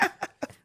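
A man on a movie news podcast lets out a short burst of close, dry coughs, three or four quick hacks with brief gaps between them.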